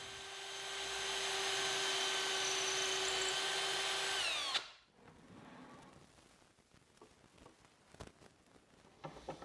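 A power drill bores holes for drawer pulls through a thin 1/8 inch masonite jig into wood for a modern sofa table. A steady loud whine runs for several seconds, then stops abruptly, followed by quieter clicks and handling knocks.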